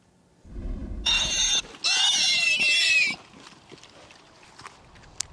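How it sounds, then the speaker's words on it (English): Pigs grunt and oink loudly up close, starting with low snorts and then giving two long, harsh squeals that fade into quieter background snuffling and shuffling. "So, do you think those oinks sound happy or sad?"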